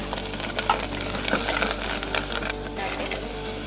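Chana and potato masala stirred in a pan with green chilli, garlic, turmeric and coriander, giving a steady close sizzle broken by scraping strokes of a spoon.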